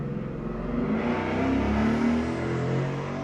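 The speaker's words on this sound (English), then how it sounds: "Every time a loud car goes by, it sets off a car alarm." A loud car passes outside, its engine note rising and swelling in the middle before easing off, a close, continuous rumble with no voices.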